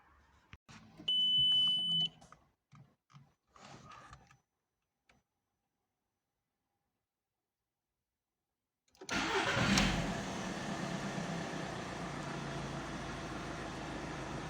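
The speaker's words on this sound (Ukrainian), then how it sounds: "Двигун працює добре, тихо." A Volkswagen Golf 4 engine, just after an oil and filter change, cranks and starts after a pause, then idles steadily, evenly and quietly; brief clattering and a high beep come before it.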